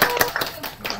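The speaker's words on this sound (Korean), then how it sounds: "자, 협조해 주신다고 박수." A brief burst of clapping from a few people at a morning meeting, several sharp irregular claps close by over about a second.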